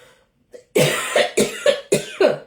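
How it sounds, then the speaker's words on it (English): A run of four harsh, close coughs in quick succession, preceded by a faint brief throat sound, with no talking. "I have to cough."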